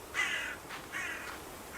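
A crow in a snowy survival video game gives two harsh caws about a second apart, moderately loud and close against a quiet background.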